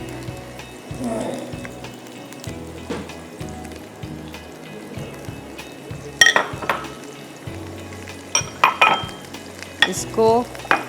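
Raw onion paste frying in a pan, a continuous close sizzle with a spoon scraping and stirring, and a few louder clanks of metal against the pan.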